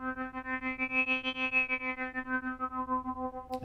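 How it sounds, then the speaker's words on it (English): Arturia Prophet V software synth holds a steady buzzy tone while a slow 7-second LFO sweeps its filter, brightening and darkening the timbre in a gentle swell, ending with a short click. "So we've got the same 7-second LFO that's coming from the VS. Now it's applying to the Prophet 5's filter."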